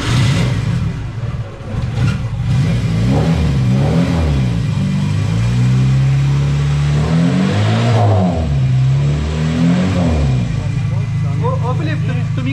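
A Miura X8 car engine starts and revs, its low rumble rising and falling steadily throughout, with people talking over it.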